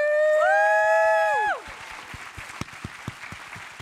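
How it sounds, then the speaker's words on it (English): A high, sustained whooping voice rings out first, then gives way to scattered, fairly quiet claps and light applause from an audience at a celebratory gathering. "give yourselves a huge round of wild applause"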